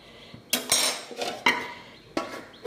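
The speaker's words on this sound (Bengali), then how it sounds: "এখন দিয়ে দেবো ঢেকে, একটু নাড়া দিয়ে ঢেকে" Fish curry being stirred in a pot and the lid set on, several sharp metallic clanks and scrapes of spoon and lid against the pot, each ringing briefly, with no talk.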